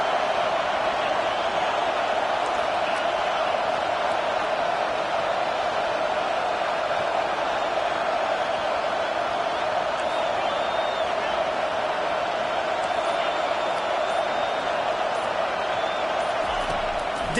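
Stadium crowd noise in Madden NFL 25 as fans get behind the defense on third down, a steady, dense roar that holds at a constant level throughout without breaks.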